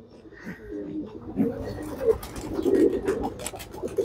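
Female pigeons at a champion pigeon tournament in Narayanganj give repeated soft, low cooing calls close by, with faint voices and background noise around them.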